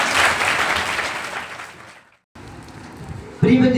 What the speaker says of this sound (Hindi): सभी लोगों का ताली बजाकर स्वागत करें।